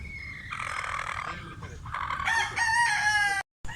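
A rooster crows outdoors at fairly close range, one long drawn-out cock-a-doodle-doo that rises and holds, with faint background noise and a brief cutoff near the end.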